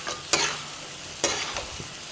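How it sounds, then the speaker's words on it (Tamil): Chicken pieces stirred in hot oil for a mint chicken curry: a steady soft sizzle with two sharp scraping stirs of the spoon against the pan, close and fairly loud, no talking. "நல்லா இந்த எண்ணெயிலே நல்லா சுருள நல்லா கிண்டி விட்டுக்குங்க"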